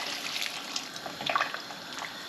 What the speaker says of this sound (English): Now I've got 2 pints of boiling hot water out the kettle, and I'm just going to pour that in.